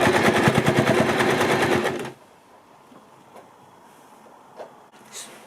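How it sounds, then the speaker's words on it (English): A sewing machine stitches fabric for a scrunchie in a fast, steady mechanical rattle for about two seconds, then stops, leaving only faint room noise with a couple of soft clicks. "You just keep sewing along."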